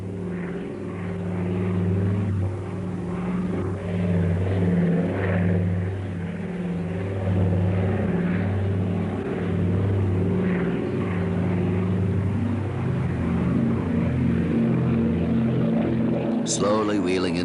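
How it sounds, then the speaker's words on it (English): A converted World War II reconnaissance and rescue aircraft lands with a steady, droning propeller engine roar, loud and continuous, pulsing slightly in pitch, with someone narrating over it. "Philippe brings the converted World War II reconnaissance and rescue aircraft down to a landing almost directly above the Great J"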